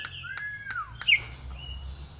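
Caged songbirds, including a currupião, sing in an aviary: several sharp chirps and whistled sweeping notes ring out in quick succession over a quiet low hum.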